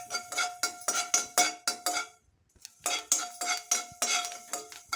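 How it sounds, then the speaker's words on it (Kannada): Fenugreek seeds dry roasting in a pan without oil, a spoon scraping and stirring in quick repeated metallic clinks and rattles with a short pause midway, close and clear with no voices. "ಒಂದು 3/4 ಸ್ಪೂನಷ್ಟು ಮೆಂತ್ಯ ಹಾಕ್ಕೊಳ್ತೀನಿ. ಎಣ್ಣೆ ಹಾಕೋದು ಬೇಡ, ಹಾಗೆ ಹುರ್ಕೊಳ್ತೀನಿ."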